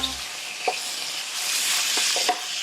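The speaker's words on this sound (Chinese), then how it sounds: "然后还有蒜头，然后下去煸炒。" Sliced garlic and ginger stir-fried in a hot pan give a close, steady sizzle with a few light spatula taps and scrapes, with no one talking.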